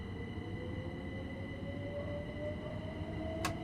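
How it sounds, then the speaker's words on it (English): A moving train in the Train Sim World 6 video game on the Brighton Main Line, a steady rumbling run with a faint rising tone and a short high squeal near the end, no talking. "I hear a train in motion."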